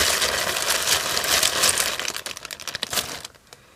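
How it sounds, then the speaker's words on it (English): Plastic packaging crinkles and rustles steadily up close during a yarn podcast, bright crackling at first, then thinning into sparse scattered crackles before falling quiet. "I apologise for the crinkling"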